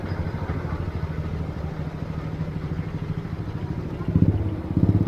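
An old, well-maintained scooter idles with a steady low putter and rattle, holding an even rhythm before growing slightly louder near the end.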